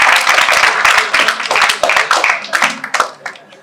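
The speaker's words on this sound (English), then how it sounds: "give that person a round of applause" Audience applause at a public sector debate competition grand finale, a dense burst of many hands clapping that starts strong and thins into scattered claps toward the end, close and loud.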